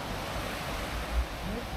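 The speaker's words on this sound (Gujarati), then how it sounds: "આ સમુદ્રનો અવાજ છે." Ocean waves breaking on a beach at Labadee, a steady broad roar of surf with wind noise, heard alone over a couple of seconds.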